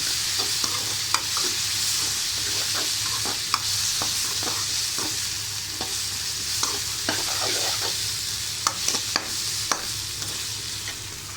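A spoonful of ginger-garlic paste frying in a pan for a dry raw-banana dish, with a continuous close sizzle and frequent light spatula taps and scrapes as it is stirred.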